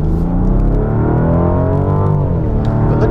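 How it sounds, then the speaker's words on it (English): The V12 engine of a Rolls-Royce Wraith Black Badge revs hard under full acceleration, a loud, deep, bassy roar that climbs steadily in pitch and stays continuous and close throughout. "When you floor it, you do hear the wonderful, deep, bassy V12 engine come alive."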